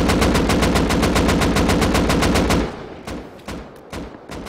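Sustained full-auto spray from an AK rifle fitted with a muzzle brake in the game Rust, loud rapid evenly spaced shots for over two seconds, then a few scattered single cracks and echoes.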